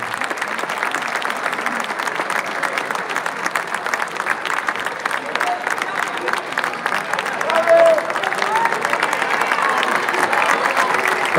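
Audience applauding at a youth mini-basketball award ceremony, a Canestro d'Oro 2023 prize presentation; steady dense clapping from a large crowd runs throughout, swelling slightly near the end.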